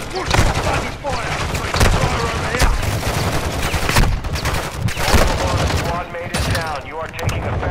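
Heavy, close gunfire in Call of Duty DMZ sounds as loud automatic bursts and shotgun blasts that continue almost without pause, with voices and radio chatter mixed in.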